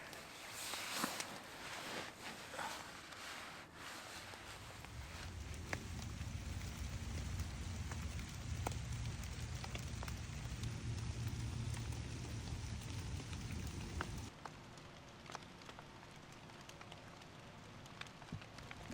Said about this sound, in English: it's barely raining in any way